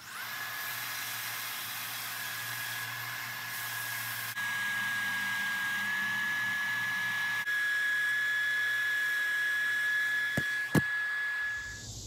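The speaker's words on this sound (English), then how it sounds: "So I'm gonna go ahead and fillet the sides off real quick with the belt sander." A belt sander runs with a constant high whine and hiss as it grinds wood off the sides of a handmade croaker fishing lure, the pitch shifting slightly when the piece is pressed, then a couple of sharp knocks near the end.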